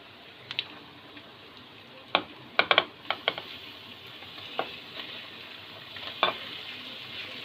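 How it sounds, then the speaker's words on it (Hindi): Chicken being stirred in a pan with garlic, ginger and onion: a quiet bed of frying with scattered scraping clicks and taps from the spoon, sparse and irregular, no talk. "ये ऐड हो गया हमारा चिकन। इसको अच्छी तरह से पकाना है लहसुन अदरक और प्याज में।"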